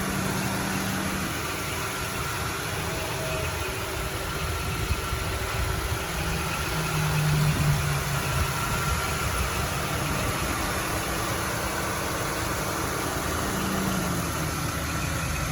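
A 1996 Mercury Cougar XR-7's fuel-injected Ford 3.8 liter DOHC V6 idles steadily with an even low hum and faint vibration, heard up close with no talking.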